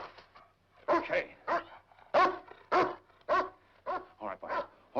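A dog barks and yips in a quick run of short, loud, close barks, with a few whimpering notes between them and no talk over it.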